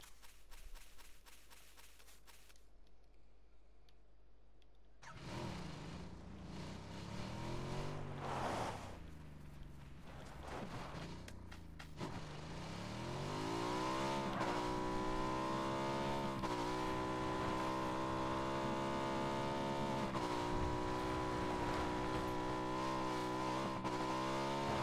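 Motorbike engine in a multiplayer last-man-standing video game, a steady droning whine that starts after a brief quiet and rises in pitch and loudness, holding a continuous revving tone to the end.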